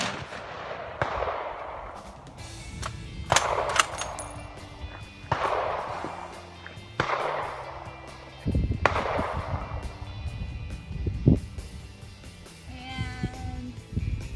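Sniper rifle fired at a far target about 100 yards away: several loud, sharp shot-like blasts with booming tails ring out at irregular intervals over a noisy outdoor background.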